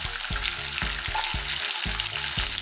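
Fennel seeds, curry leaves and about fifteen garlic cloves sauté in a pan for a mutton masala, giving a steady close sizzle and hiss with rhythmic stirring strokes, roughly two per second, and no talking.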